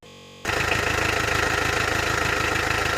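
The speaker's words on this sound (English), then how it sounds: "let's start the engine and let's see our pressure" Car engine cranks and fires up with an oil pressure gauge fitted in place of the sending unit, then settles into a loud, even idle with a steady rhythmic pulse, close to the engine and without talk.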